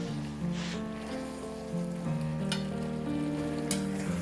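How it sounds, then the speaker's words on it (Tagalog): Pineapple chunks are stirred into a pan of chicken and vegetables, giving a steady low sizzle with a few scraping stirs and soft clatters throughout, no voices. "Ngayon ilalagay na natin ang pineapple chunks."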